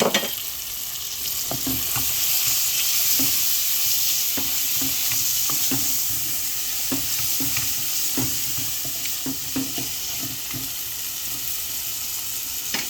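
Spice paste frying in a pan for a pabda fish dish with ginger and lemon, a steady sizzle broken by regular scraping strokes of a spatula, close and fairly quiet, with no one speaking.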